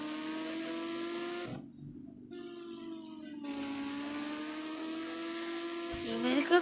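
A Kawasaki Ninja motorbike engine drones with a steady, close hum. It dips briefly near the start and swells in a quick rev at the end.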